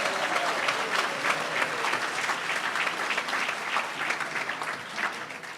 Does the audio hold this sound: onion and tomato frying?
no